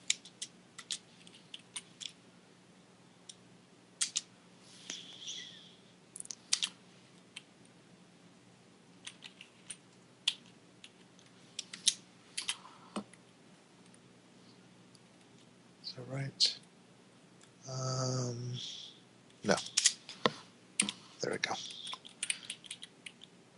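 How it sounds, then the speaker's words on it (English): Typing on a computer keyboard during a game-development work session: sparse, irregular key clicks and taps scattered throughout, mostly close and light, with a few brief vocal sounds in between. "And I'm typing them wrong."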